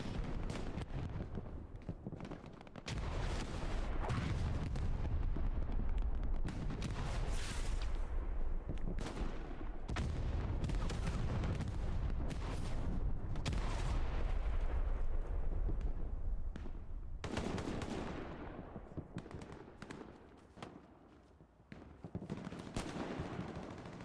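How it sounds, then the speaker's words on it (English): Artillery and rocket fire in the World War II game Hell Let Loose, a long dense barrage of booming blasts and rattling gunfire, loud and continuous with sharp individual impacts throughout. "Rockets coming flying in. Or was that artillery?"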